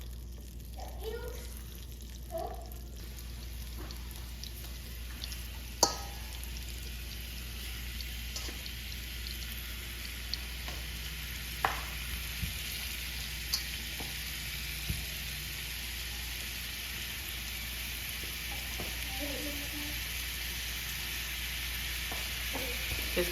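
Beef short ribs sear in a hot pan with a steady, quiet sizzle running throughout, broken by a few sharp clicks and taps of utensils against the pan.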